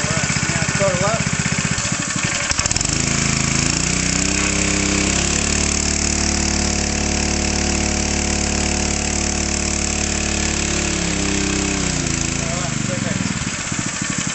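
The engine of a portable fire pump, opened up to full throttle during a drill, roars loud and steady close by, its pitch rising and later falling away, with people talking over it.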